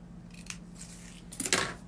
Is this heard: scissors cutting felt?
yes